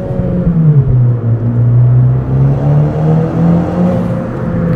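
A Honda Civic Si accelerating from inside the cabin, engine drone climbing steadily in pitch through the gears with a brief dip, loud and close with no talk.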